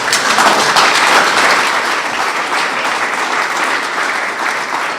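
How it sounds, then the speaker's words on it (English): A crowd at an Israel Independence Day commemoration bursts into dense, loud applause that holds steady for several seconds before easing slightly. "I didn't think that was an applause line"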